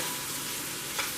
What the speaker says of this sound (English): So just keep sauteing that until